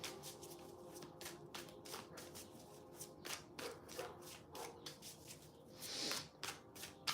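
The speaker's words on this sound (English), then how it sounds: "I can't stop shuffling." Deck of tarot cards shuffled over and over, a soft riffling and sliding close by, repeating in quick bursts with no talking.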